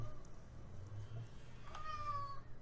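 A single drawn-out house cat meow rises near the end, fairly faint, over a low steady background hum.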